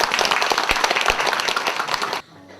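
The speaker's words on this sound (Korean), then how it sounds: "모두 박수로 환영해 주십니다" Dense applause from a crowd at a Buddhist New Year dharma service in Eunpyeong, welcoming the district mayor to the podium; steady, busy clapping that stops abruptly near the end.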